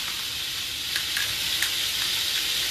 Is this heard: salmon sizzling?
yes